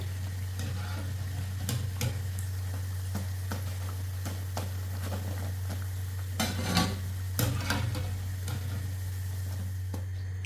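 Vada fritters deep-frying in oil give a continuous soft bubbling sizzle with occasional clicks and utensil taps, over a low steady hum and with no talk.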